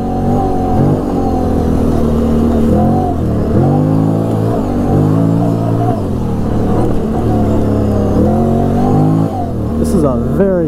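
A Can-Am Renegade 800 ATV engine revs up and down repeatedly on a trail test drive. Its rising and falling whine is close and loud, and a voice is heard faintly over it.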